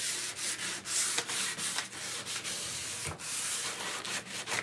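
Steady hand sanding: rhythmic back-and-forth scrubbing of sandpaper on a painted wooden kitchen cabinet, close and continuous, with no voices.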